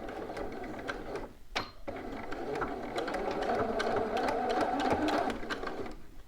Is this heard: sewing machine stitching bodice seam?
yes